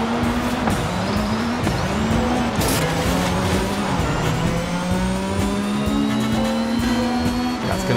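An Aston Martin Valhalla revving hard in Forza Horizon 5, its engine note climbing steadily through the gears with brief dips at shifts, loud and continuous from start to finish.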